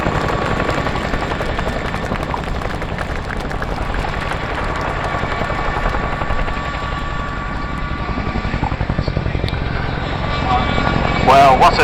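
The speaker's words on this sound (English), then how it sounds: "what a great demonstration of the iconic Royal Air Force Chinook by the roll demonstration team" A Royal Air Force Chinook twin-rotor helicopter in a display flight, its rotor thump and turbine whine filling the air loud and continuous, with a commentator's voice over it.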